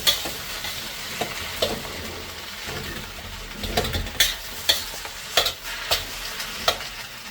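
A spoon stirs an MSG-seasoned dish in a hot pan, scraping in repeated close strokes over a steady frying sizzle, fairly loud with no talking.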